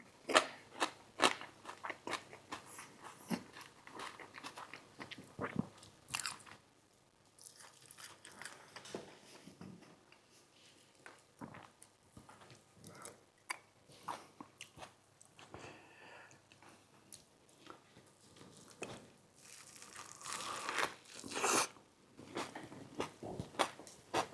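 Habit burger meal being bitten and chewed up close, soft crunches and wet chewing sounds repeating quietly with small rustles between bites.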